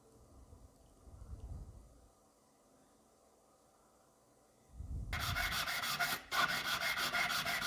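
A silver bracelet is sanded by hand with abrasive paper, starting with soft intermittent rubbing and then a louder, steady gritty rasping from about five seconds onward.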